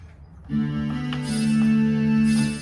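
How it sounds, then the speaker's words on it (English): A droning digital hurdy-gurdy tone through a Roland amp starts after a brief pause, holding a bright sustained note over a buzzing drone, amplified and fairly loud. "This is the sound of the hurdy-gurdy from the internal sound card"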